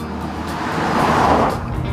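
A Honda Accord with a 2.2-litre diesel engine drives along, a steady broad rush of road and engine noise that swells slightly in the middle of a short stretch.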